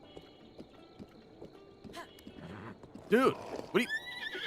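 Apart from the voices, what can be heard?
horse neighing in the video game Zelda: Breath of the Wild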